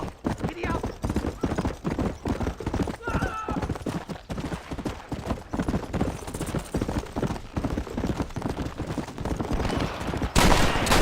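A horse gallops in Red Dead Redemption with quick, close, rhythmic hoofbeats, mixed with bursts of gunfire and shouted voices that come and go over the ride.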